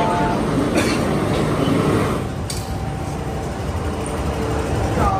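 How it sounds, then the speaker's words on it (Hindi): A metro train arrives at a Hong Kong station, a loud steady rumble of wheels and motors with faint squeals and clanks, passing from louder to slightly softer in an enclosed platform. "तो ये वाली ट्रेन जाएगी सेंट्रल"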